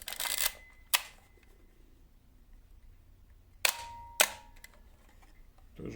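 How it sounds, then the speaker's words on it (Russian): Shutter of a Zenit film camera firing at a slow speed: two distinct mechanical clacks close together, the opening snap and a delayed closing click, then a second pair a few seconds later, crisp and near in a quiet room. "Вот видите, фотоаппарат сработал с задержкой."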